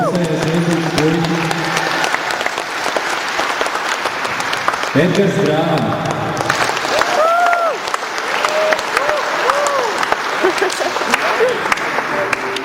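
A live show audience claps and cheers steadily, with a host's amplified voice calling out names over the applause and some whistles rising near the end.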